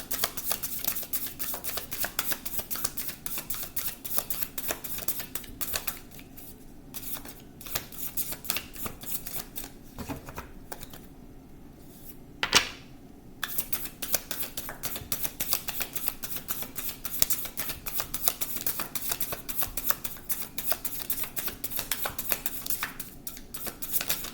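Tarot cards shuffled continuously by hand, a dense, rapid riffling and flicking close to the microphone, with a brief pause midway before the shuffling resumes.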